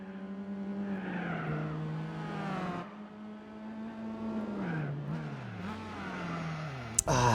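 A Honda City Turbo II racing around a track in the video game Gran Turismo 4, its engine revving up and down through gear changes with tire squeal, loud and close, ending in a sharp knock.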